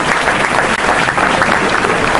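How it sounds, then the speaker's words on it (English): A dense, steady wash of audience applause fills the room at a ceremony honouring a speaker, loud and close, with many hands clapping continuously without pause. "Come on, give him a big round of applause, ladies and gentlemen."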